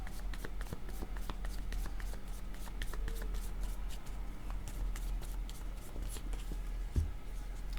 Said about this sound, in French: Je vais demander une carte